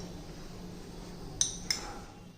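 Someone cuts a soft vegetable omelet on a plate, heard as two quick, light metallic clinks of a utensil against the plate, about a third of a second apart, in an otherwise quiet room.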